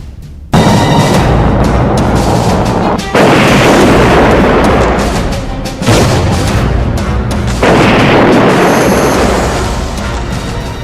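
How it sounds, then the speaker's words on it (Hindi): Missile strikes and explosions from Ukraine war news footage roar in heavy, sustained booms, with several loud blasts rolling one into the next at close range and no speech over them. "पहली मिसाइल, दूसरी मिसाइल"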